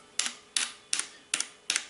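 Five evenly spaced keystrokes on an RK71 wireless mechanical keyboard, each a sharp, bright click with a faint metallic ping as the switch springs back. The typing is close and alone, with no voices.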